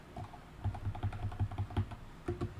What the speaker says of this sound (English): it's hard to type when there's a microphone blocking the keyboard